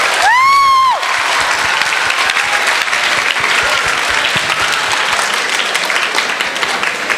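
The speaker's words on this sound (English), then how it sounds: "Can we give them another round of applause?" Audience applause for the opening ceremony speakers at a 2017 STEM conference, a steady wash of many hands clapping that fills the hall, beginning with a brief rising tone before settling into even, sustained clapping.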